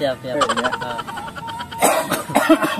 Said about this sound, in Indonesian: Tuh batuk lah Dek.